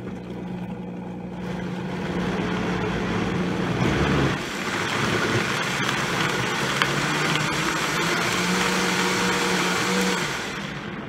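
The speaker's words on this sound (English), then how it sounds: "So now I'm going to blend everything so everything gets a little bit smaller" A blender runs loud and steady, whirring through green smoothie ingredients with coconut water, its pitch dipping briefly as the load shifts midway before settling into a continuous churn and cutting off at the end.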